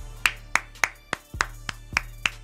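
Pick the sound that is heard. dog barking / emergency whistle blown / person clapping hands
person clapping hands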